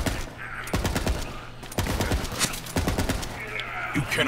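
A Dahl Star Helix assault rifle in Borderlands 3 fires in short, sharp bursts, several clusters of rapid cracks separated by brief pauses, punchy and close.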